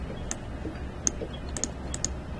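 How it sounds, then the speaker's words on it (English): A computer mouse clicking close to a microphone at a desk, a handful of scattered sharp clicks spread over a couple of seconds against quiet background hiss. "my mouse is really loud. I have the microphone kind of near my mouse, so you probably hear a lot of clicking."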